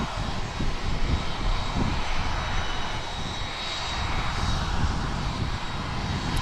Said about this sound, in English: So the ATR over on gate 4, which is the far one, just about to start up.